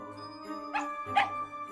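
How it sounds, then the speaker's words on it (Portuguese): Small dog in the video game Death or Treat giving two short, sharp barks about half a second apart, fairly faint over a humming game music background. "eu tô ouvindo o latido do cachorrinho"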